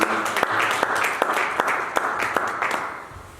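A church congregation applauds to acclaim Jesus during a French-language service in Metz. The clapping is loud and dense from start to finish, thinning slightly at the end.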